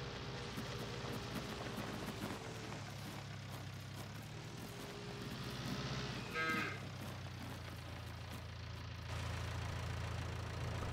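Cattle moo loudly several times across a cow pasture in Farming Simulator 2019, over a steady engine idle drone, with one sharper, closer moo standing out midway.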